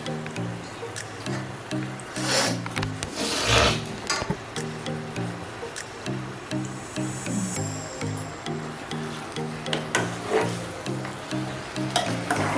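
One kilo of meat stirred and fried with mixed spices for biryani, steady sizzling with rhythmic scraping stirs and occasional louder splatters, close and continuous.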